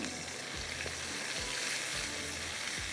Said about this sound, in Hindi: अच्छी तरह से आपने इसको थोड़ा सा इस तरह से मसाले के साथ भून लेना।